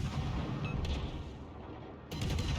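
The main guns of the battleship Gneisenau fire in a video game, with two heavy booming salvos about a second apart over a low rumbling background.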